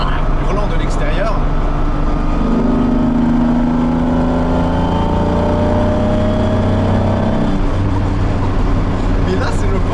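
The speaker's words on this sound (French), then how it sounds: "Et là c'est vraiment une sonorité qui vient du bloc moteur" A Lamborghini Diablo's V12 engine roars loud and steady, its deep drone rising and falling in pitch like climbing revs, heard from inside the car.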